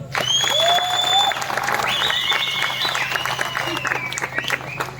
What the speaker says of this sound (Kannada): ಈ ಮಕ್ಕಳಿಗೊಂದು ಜೋರು ಚಪ್ಪಾಳೆ ಕೊಡಿ